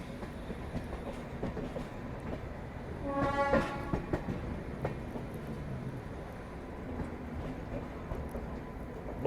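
The Tirupati–Jammu Tawi Humsafar Express pulls into platform 2 at Rani Kamlapati station in Bhopal. A steady rolling rumble carries a brief horn blast early on, with faint clicking of wheels over rail joints.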